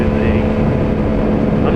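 Motorcycle cruising on an open road on a relaxed Sunday ride, a steady close engine drone with constant wind rush that stays even throughout, with the rider talking over it.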